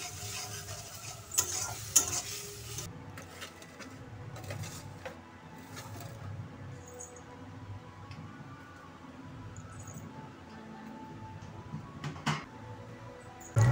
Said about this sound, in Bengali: মশলাটা ঢেলে দিয়েছি ঢেঁড়সের তরকারির জন্য।